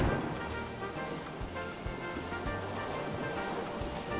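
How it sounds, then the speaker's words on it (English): Rippling water from the video game Kingdom Hearts Final Mix, a continuous soft wash of lapping surf with a faint repeating low pulse underneath, steady and even throughout. "it says the water is rippling"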